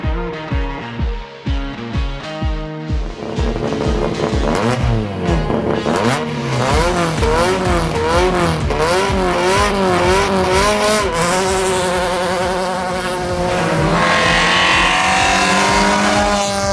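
Rally car at full pace on a Szőlősardó rallysprint stage, its engine loud and close, rising through the revs with quick pulsing shifts at first, then a long sustained high-pitched wail as it accelerates hard, with no voices.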